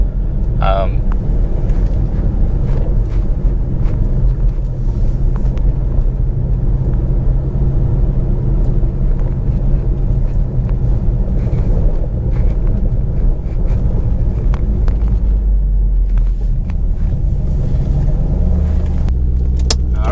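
A Ford Shelby GT500 fitted with drag race tires at about 16 PSI rolls along back roads, its engine a steady loud rumble with wind buffeting throughout and no clear launch, while a person talks over it.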